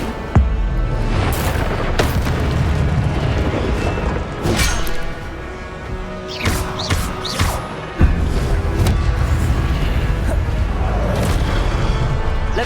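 Spell effects in Hogwarts Legacy, including the Incendio fire spell, come as a dense run of booming blasts, crackling bursts and impacts. They are loud and continuous with brief lulls in the middle, with no talking.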